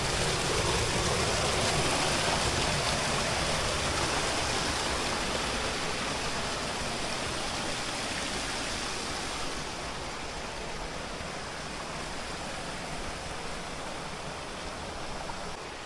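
Steady roaring rush of falling water from a waterfall up above in Turkey, a continuous broadband wash that stays even and unbroken throughout with no voices.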